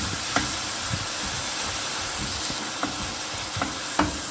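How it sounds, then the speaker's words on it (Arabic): Minced meat frozen straight from the freezer sautéing in oil in a hot frying pan, a loud, steady sizzle and hiss with occasional stirring clicks, close and without talking. "فانا هخليها بس تتشوح تشويحه بسيطه."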